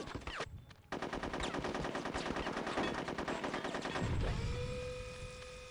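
Sustained rapid machine-gun fire from Conker's Bad Fur Day, a dense rattling stream that breaks briefly near the start, then continues steadily with low thuds and a rising whine.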